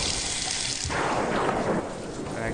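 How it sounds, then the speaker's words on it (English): Water runs from a bathroom faucet in the video game The House 2, starting partway through as a sudden steady rushing splash that carries on, close and moderately loud, with no talk. "let's just run some water."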